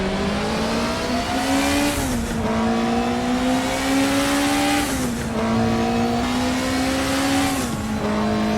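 Group 5 race car engine in the Raceroom racing game at Bathurst, a loud continuous high-revving roar that rises through the gears with brief dips at each shift, steady and close throughout.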